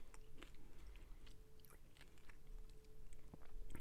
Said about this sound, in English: Don't mind me loudly chewing in the background.